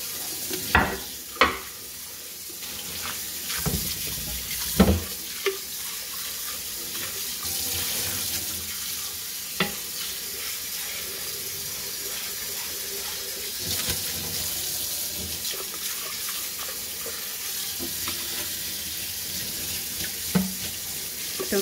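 Tap water runs steadily into a sink while aluminium cookware is washed under it, a continuous hiss broken by occasional clanks and knocks of metal, close and fairly loud.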